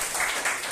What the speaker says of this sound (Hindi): तो बजाओ ताली।